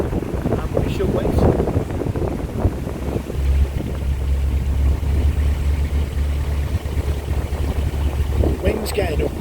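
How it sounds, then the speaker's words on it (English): Strong wind gusts buffet the microphone on a canal boat trip near Bosley and Macclesfield, a low rumbling roar that swells and eases under occasional voices and small knocks. "Wind's getting up now"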